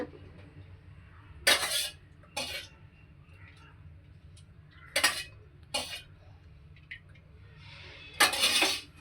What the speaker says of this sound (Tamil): வானல் ஒன்று வச்சுங்க தேவையான அளவு எண்ணெய் ஊற்றிக்கிங்க